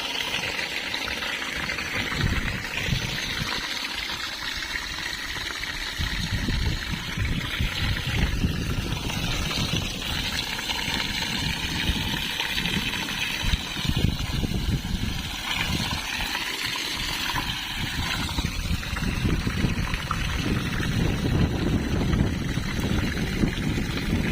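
Water being let into a borewell to recharge it, a continuous rushing and gurgling flow heard steadily at moderate level from start to finish, with no speech.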